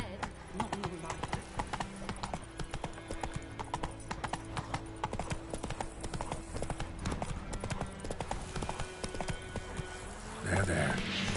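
A horse gallops in The Witcher 3: Wild Hunt with rapid, steady clip-clop hoofbeats, fairly quiet, under game music, with speech near the end.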